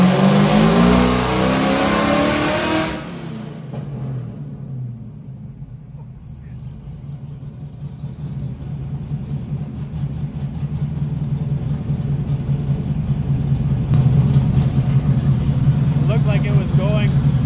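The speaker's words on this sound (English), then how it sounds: "Doing the nitrous pull now." A car engine on a dynamometer during a nitrous pull, first loud and revving hard for a few seconds, then dropping to a steady lower drone that swells gradually toward the end, with voices over it.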